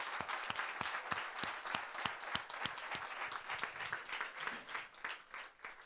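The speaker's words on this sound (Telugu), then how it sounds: "let us give a clap" A church congregation at a Sunday worship service claps steadily together, with sharp, evenly spaced claps ringing out over a dense bed of scattered hand claps for several seconds, moderately loud and close.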